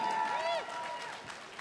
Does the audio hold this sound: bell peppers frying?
no